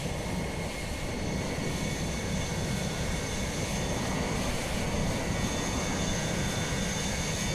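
Airliner engines drone at Dublin Airport in Microsoft Flight Simulator 2020 with two aircraft in view, a steady broad jet roar with a faint whine on top and no pauses.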